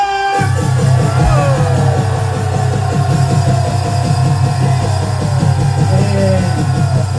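A large outdoor rally crowd of Korean patriotic groups shouts a sustained cheer on cue, a dense continuous roar of many voices holding steady for several seconds with a rhythmic pulsing underneath.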